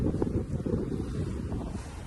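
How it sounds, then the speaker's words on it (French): Wind rising at sea aboard a Vendée Globe racing sailboat, a close, gusty low roar buffeting the microphone with faint water wash underneath. "Et le vent s'est levé."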